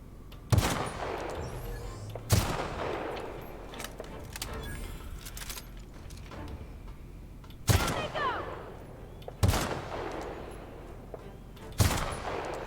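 Gunfire in The Outer Worlds video game: five loud, separate single shots spaced a couple of seconds apart, each with a short ringing tail over a quiet ambient background.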